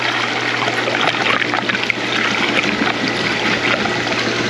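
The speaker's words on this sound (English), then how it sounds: "It's sucking the water on up. We got the water shooting out." Pool pump pulling water through a sand filter and shooting it out in a steady, loud rushing stream with trickling, bubbly texture from trapped air, continuous and close.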